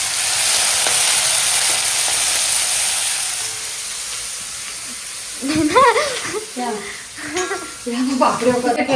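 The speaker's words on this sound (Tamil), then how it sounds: "வெங்காயம், கருவேப்பிலை சேர்த்து நல்லா வதக்கிக்கலாம்." Sliced onions and curry leaves frying in hot oil in a home kitchen while cooking for a biryani and chicken meal: a steady, loud broadband sizzle that eases off, then scraping and clattering from stirring in the pan.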